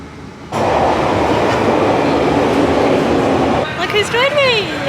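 A London Underground train at Oxford Circus roars loudly and steadily through the carriage after a sudden onset, with rattling wheel noise, and a voice speaks briefly near the end.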